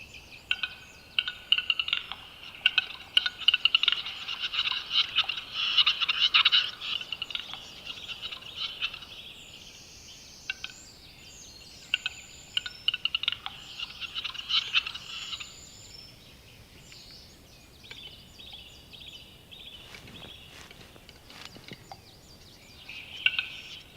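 Male grouse making courtship display calls at a communal arena in the Alpine wilds near the Watzmann, a run of bubbling, gobbling and hissing calls that come in bursts, moderately close, with no voices.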